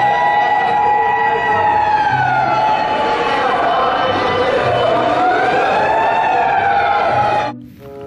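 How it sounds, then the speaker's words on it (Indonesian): A toy fire engine siren wails steadily up and down, close and loud, for about seven seconds before cutting off abruptly near the end. "ada pemadam kebakaran"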